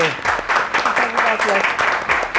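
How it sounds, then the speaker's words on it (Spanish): An audience on an educational television programme claps for a teacher, a rhythmic pulsing applause in short bursts, fairly close, with a voice speaking over it. "Un aplauso para la profe Claudia"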